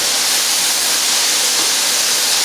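Mushrooms and onions sizzling loudly in a hot pan while being stirred, a dense continuous hiss with no pauses and no speech.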